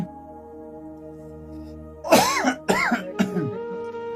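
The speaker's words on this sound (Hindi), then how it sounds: "हमरा के देख के खांसत रहो" A sustained musical tone hums, then three harsh, strained coughs follow one after another, loud and close over the lingering tone.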